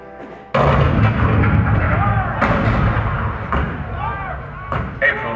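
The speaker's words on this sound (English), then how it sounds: "The cannon spoke for war, bitter, violent, and devastating." Cannon fire sound effect in a theme park show, heavy booming blasts that open with a sudden loud thud and repeat several times with rumbling decay, mixed with narration.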